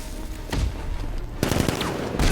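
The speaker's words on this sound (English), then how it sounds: "Can you dodge a bullet, Batman?" Gunfire in the Batman: Arkham Knight video game, a couple of loud, close bursts of rapid shots over rumbling low-end game noise, each burst ending abruptly.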